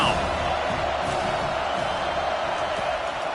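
Stadium crowd in NCAA College Football 25 roars in a loud, steady wash of cheering and shouting, dense and continuous throughout.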